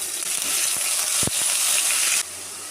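Onion paste, bay leaves and ground spices frying in white oil for a broccoli roast, a steady close sizzle with a brief stirring scrape midway, easing slightly near the end.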